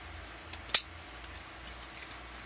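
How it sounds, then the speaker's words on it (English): Scissors trim away bad brown roots from a yellow-flowered Psychopsis orchid during repotting, giving one crisp snip alongside a few softer clicks in a quiet room. "I'm going to chop away the bad roots"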